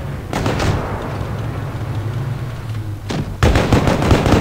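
Tank cannon shots from the mobile game World of Tanks Blitz, with an M2 Medium in battle: a sharp blast near the start, then two more heavy bursts toward the end over a steady low engine rumble.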